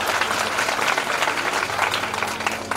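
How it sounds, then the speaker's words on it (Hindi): An audience at a Bhagwat Katha religious gathering in Khedi Badi, Ashta, Sehore, claps together in a loud, dense, sustained round of applause that fills the whole stretch without pause. "इसलिए सब एक एक बार अपने लिए ताली बजा दो।"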